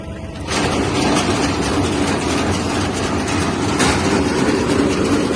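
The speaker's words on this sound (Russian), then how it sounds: "Включаем вал отбора мощности на тракторе." A tractor's power take-off kicks in to drive a Japanese ROLLBALLER RB-910 baler, settling into a loud, steady low roar of machinery running nearby, with no voices.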